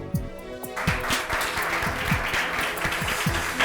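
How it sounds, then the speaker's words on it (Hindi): Applause in a college hall where an idea is being credited to a professor, a steady wash of clapping from a gathered audience lasting several seconds, with music-like tones beneath it. "तालियां।"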